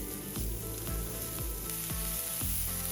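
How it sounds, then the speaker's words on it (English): Onions and cumin powder fry in a teaspoon of oil, a steady close sizzle broken by regular scraping stirs about every half second, with no talking. "To this I'm adding cumin powder, and along with this I will also add the onions."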